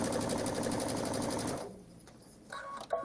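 A sewing machine stitches zigzags on a quilt block, its fast even needle chatter running steadily before stopping abruptly, followed by a few faint handling clicks.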